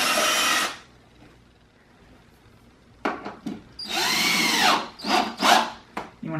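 A power drill countersinks a screw into wood during a coffee table build: one short whir, a quiet pause, then a series of loud, close bursts of varying length.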